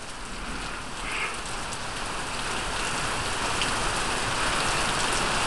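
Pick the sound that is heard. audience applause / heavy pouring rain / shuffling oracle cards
heavy pouring rain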